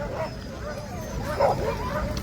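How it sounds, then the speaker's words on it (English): Sled dogs at a pre-race gathering for a K300 sled dog race yip, whine and bark excitedly in a steady, overlapping chorus, set against a busy outdoor crowd with people talking. "Happy dogs right there."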